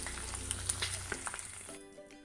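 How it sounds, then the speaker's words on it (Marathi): Prawns fry in oil in a pan with a dense, steady sizzle and scattered sharp crackles close by; the sizzle eases toward the end. No talking. "आपण ही काढून घेऊया आणि दुसरी बॅच फ्राय करून घेऊया."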